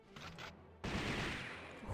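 Gunfire in the arcade-style video game Dynamite Cop, a burst of rapid shots erupting abruptly after a quieter stretch and continuing loud and dense.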